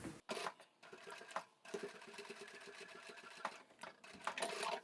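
A sewing machine stitches a fabric storage basket in quick bursts, its rapid mechanical chatter starting and stopping close by, with brief pauses between runs.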